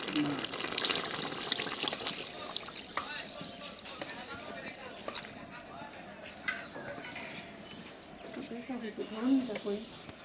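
Broth is poured into a bottle gourd curry in a Bengali village kitchen, giving a soft, intermittent liquid splashing and gushing under people talking nearby.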